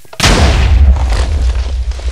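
A TNT block blows up in Minecraft with one sudden loud boom, followed by a deep rumbling roar that fades slowly.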